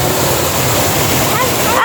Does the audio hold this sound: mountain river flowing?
yes